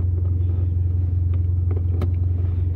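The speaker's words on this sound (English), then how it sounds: "we're about to go on our first test drive around the block" Car heading out on a first test drive around the block, a steady low engine rumble heard from inside the cabin, with a few faint clicks and knocks over the drone.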